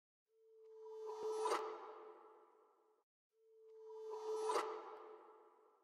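The Euphoria kit's toy transition, pitched down three semitones, plays twice in a row: each pass is a tone swelling into a bright whooshing burst that then decays, clean and alone with a short gap between.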